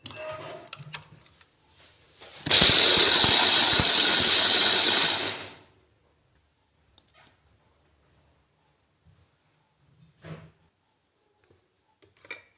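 A food processor grinding roasted peanuts into peanut butter whirs loudly for about three seconds and then stops abruptly, followed by near silence broken only by a few faint clicks and small knocks.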